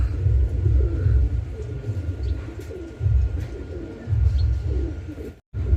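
A pair of Gola pigeons coo in steady, low rolling phrases, close and fairly loud, with a brief dropout near the end.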